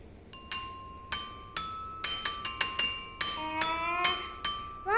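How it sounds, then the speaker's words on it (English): Bright struck bar tones ring out one by one as a xylophone is played, roughly a dozen clear notes in a loose, uneven rhythm, some decaying while the next sounds, close and fairly loud with no talking. "Xylophone. Yes, it's xylophone."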